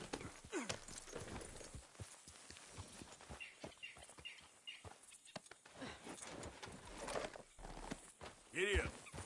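Horse hooves clip-clopping at a walking pace in a Western video game, a steady close rhythm running under people talking.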